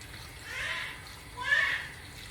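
Water is poured into a pot of stuffed Swiss chard dolma in two short, splashy pours close by, with a quiet pause between them.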